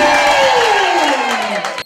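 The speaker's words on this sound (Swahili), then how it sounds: "Piga makofi na vigelegele kwa Yesu." A church crowd clapping and ululating in praise, loud and close, with dense cheering, whoops and high trilling voices that slowly fade toward the end.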